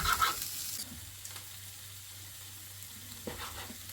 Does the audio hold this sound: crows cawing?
no